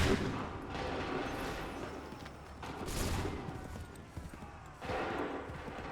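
Musket volleys fired on command in Assassin's Creed 3 crack out as several loud bursts spaced a second or two apart, over a busy battlefield background with faint hoofbeats.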